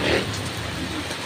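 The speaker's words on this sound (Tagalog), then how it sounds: "talagang umuulan" Heavy rain pouring steadily during an approaching typhoon, a dense unbroken hiss of drops on surfaces, loud and close throughout.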